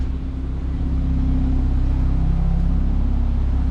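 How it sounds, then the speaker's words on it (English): A BMW F30's engine idles at close range with a steady, low rumbling drone and a faint hum, running without pause and no voices. "There's the engine on the F30."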